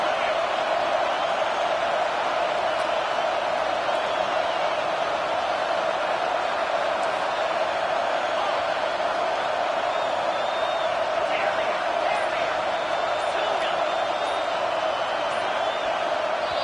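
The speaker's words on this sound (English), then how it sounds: "with this place rocking, the crowd forces a false start" A college football stadium crowd in the video game NCAA 25 roars steadily and densely through a tense offensive play, a constant wash of noise with faint whistles poking through.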